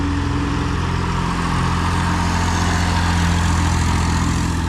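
A tractor with a box blade grading and spinning out a house foundation slab, its engine droning loud and steady throughout at close range with no pauses.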